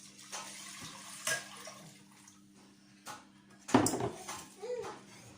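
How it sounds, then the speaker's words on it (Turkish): Water is poured into a cooking pot for Turkish chickpea soup with rice, coming in short splashing gushes close by, with the loudest pour near the end among quieter handling clinks. "Suyumuzu döküyoruz."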